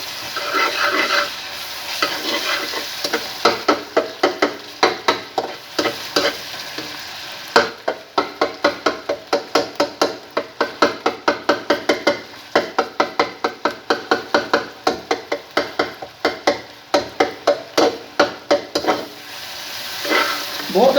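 Tomato, green chili and ginger-garlic paste frying in a pan while being stirred, with a steady sizzle broken by a long run of rhythmic, fairly loud scraping and knocking strokes of the spoon against the pot.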